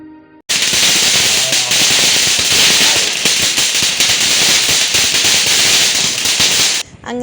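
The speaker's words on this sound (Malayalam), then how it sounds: "ഇതാണ് ചാട്ടപ്പടക്കം. അതായത് ചാട്ട പോലെ നല്ല വലുതായിരിക്കും." A chatta padakkam whip-style firecracker bursting during Vishu celebrations: a loud, continuous rapid crackle of closely packed pops running for about six seconds without pause, close by, then stopping abruptly.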